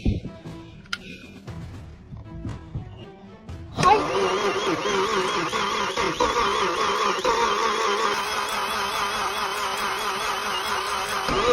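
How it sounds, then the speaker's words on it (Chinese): A flood-damaged BMW X5 engine, fitted with new ignition coils and spark plugs, cranks and catches, settling into a loud, steady idle after a few seconds of light handling sounds. "裝上點火線圈、火花塞，咱們現在就開始打火了。"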